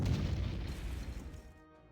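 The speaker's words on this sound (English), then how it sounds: "let's give them a good smack here with our heavy artillery" Heavy artillery shells exploding in the World War II strategy game Panzer Corps Gold: a loud, deep boom that rumbles and slowly fades over about two seconds, with no talking.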